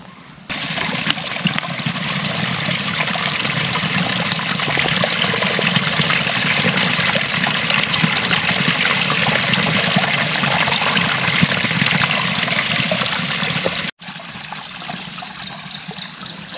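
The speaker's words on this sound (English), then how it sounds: "I'm getting my water bottle out and refill it." Spring water runs steadily from a pipe below a small dam in hardwood timber, pouring into a water bottle being refilled; a continuous close trickling splash holds for about fourteen seconds, then briefly cuts and resumes.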